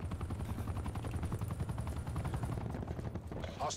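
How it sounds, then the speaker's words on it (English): An attack chopper in the video game Call of Duty: Black Ops 4 thumps with steady rotor pulses under bursts of rapid gunfire, loud and continuous, then trails off near the end. "No, attack chopper,"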